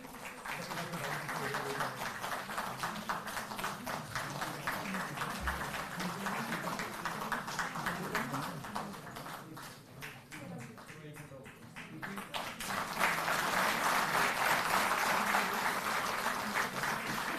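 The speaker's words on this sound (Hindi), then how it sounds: "जोरदार ताली बजती रहे।" Audience applause at a Delhi government event, a broad, sustained patter of clapping from a large crowd that dips briefly in the middle and then swells louder again, with a voice speaking over it.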